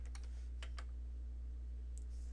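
A few quick clicks on a computer keyboard in two short bursts, close and faint, over a steady low electrical hum in a quiet room.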